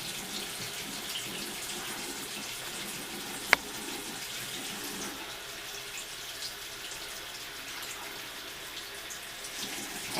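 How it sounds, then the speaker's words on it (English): Tap water runs steadily into a sink as makeup brushes are rinsed over a palm, a soft continuous hiss with one brief click partway through and no talking. "And then run the water"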